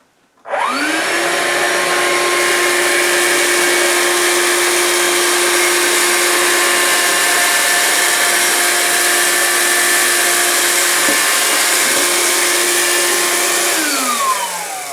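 A Vax Life cordless upright vacuum cleaner in suction-only hard floor mode on a laminate floor starts up after a brief silence and runs loudly and steadily at close range, then winds down at the end.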